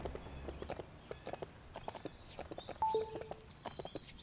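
Horse hooves clip-clopping in the LEGO City Undercover video game: a steady run of hollow hoof clops at a walking pace, fairly quiet, with a few brief game sound effects between them.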